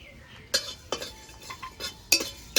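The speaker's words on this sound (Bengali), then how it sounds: "এখন গোটা ধনে কটা ভেজে নেব" Whole coriander seeds being fried and stirred in a pan after bay leaf, heard as a few separate close scrapes and clinks of a utensil against the pan over a quiet background, with no talk.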